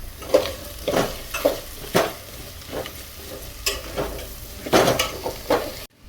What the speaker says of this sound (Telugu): ఇప్పుడు బెండకాయలు వేసుకుందాం హాఫ్ కేజీ బెండకాయలు